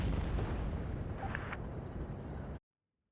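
A heavy tank's main gun fires in World of Tanks Blitz, its boom rolling into a dense rumble of battle noise that holds steady and then cuts off abruptly into silence.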